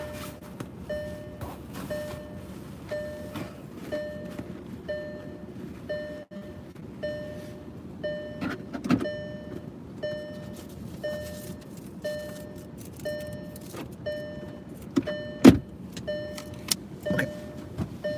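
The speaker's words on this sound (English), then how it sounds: "I'm just gonna keep the engine running." A parked car idles with its engine running, a steady low rumble under a regular ticking click that repeats throughout, with occasional small knocks and rattles.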